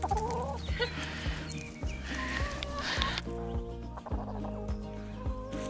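Chickens cluck and squawk up close as they rush in to eat pieces of apple outdoors in the Peloponnese, Greece, a busy continuous chatter of many birds with bright overlapping calls.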